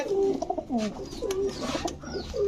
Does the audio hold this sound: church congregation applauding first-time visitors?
no